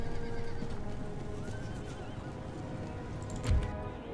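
Cavalry horses in the Empire: Total War video game whinny and neigh over a continuous rumble of hoofbeats, with one louder close thump near the end and no voices.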